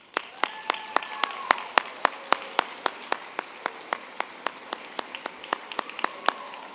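A round of applause at a DECA conference opening for standing members of Hoover High School and Clark County High School, where one sharp, rhythmic, close clap stands out at a steady pace over softer applause from the hall and faint voices.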